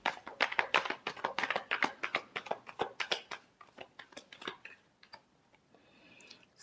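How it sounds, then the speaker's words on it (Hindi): Tarot cards being shuffled by hand give a fast run of crisp riffling snaps and taps, loud at first, then thinning to a few soft flicks and quiet rustle toward the end, with no talking. "Last shuffle."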